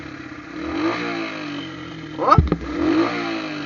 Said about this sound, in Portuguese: Esse escape tá fazendo barulho, meu parceiro.